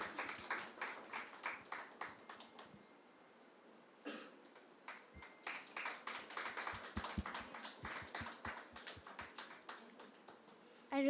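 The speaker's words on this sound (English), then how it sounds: "Please, a round of applause." A conference audience at a national media conclave claps in short, scattered bursts. The applause is faint and sparse, with a brief pause partway through, and it builds into denser clapping toward the end.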